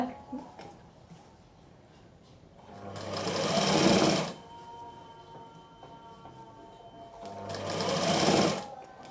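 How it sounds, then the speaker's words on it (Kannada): A sewing machine stitches piping onto fabric, 1/4-inch seam, in two loud bursts of fast whirring stitching separated by quieter pauses, close up, with no talk. "ಇದೇ ರೀತಿ ಪೂರ್ತಿಯಾಗಿ ಇದನ್ನು ಸ್ಟಿಚ್ ಮಾಡ್ಕೊಂಬರ್ಬೇಕು"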